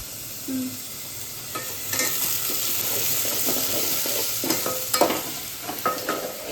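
Food fries and sizzles in a pan at home while a utensil stirs and scrapes it, a steady close hiss with clinking strokes and no talk.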